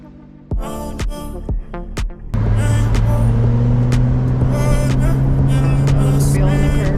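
A 2024 Porsche 911 GTS on the road, with a few short revs and low rumbles before the engine settles into a loud, steady drone that rises slightly in pitch as the car accelerates.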